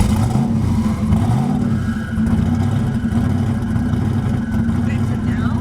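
A twin-turbo Ford Mustang drives along, its engine a loud, steady droning hum with a whooshing, spacey tone and slight rises in pitch, close and continuous throughout.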